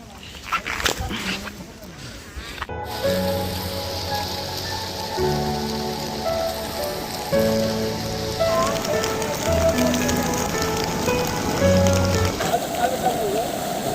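Heavy rain pours down in Srisailam, flooding into homes, as a constant dense hiss of rain striking surfaces. It sits under sustained tonal music and possible voices.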